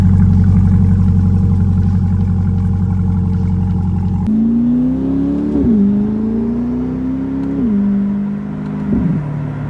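A C8 Corvette Stingray with a Z06 center exhaust rumbles at idle, then revs up and down in several swells, the exhaust note rising and falling loud and close.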